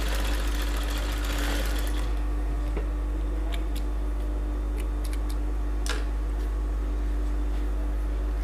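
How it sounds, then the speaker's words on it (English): A sewing machine stitches a half-inch shoulder seam on a bodice, its motor whirring steadily for about two seconds before stopping, followed by a few faint ticks and taps. "so you're just going to sew 1/2 inch on the shoulder"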